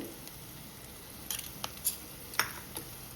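Spices and masala sauté in hot oil with a soft, steady sizzle, punctuated by a few light scrapes and clinks of a spoon stirring against the pan.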